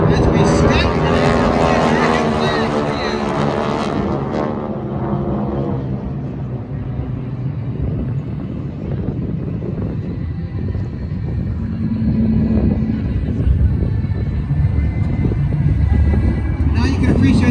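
Six classic World War II aircraft fly in formation at an airshow with a deep, droning propeller roar. The sound swells loud at first and then settles into a sustained rumble, with a voice talking over it.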